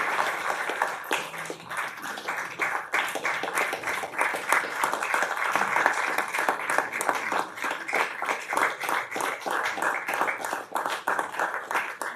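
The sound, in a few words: applause for Commissioner Alvin Mason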